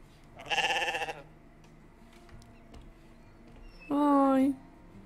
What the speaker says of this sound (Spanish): ¡Qué gracioso el burro!